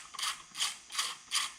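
Four quick ratchet bursts, evenly spaced and close, from a ratchet with a 10 mm socket working bolts on an old Jag snowmobile being revived after years of sitting.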